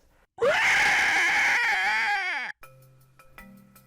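A voice imitates a shrill, unexpected scream: one loud, sustained, wavering shriek of about two seconds that breaks off abruptly, leaving a faint electronic tone afterward.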